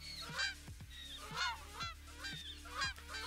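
Repeated loud goose honks from a goat-goose creature in a video game, coming in bursts roughly once a second over a steady low hum, with no talk.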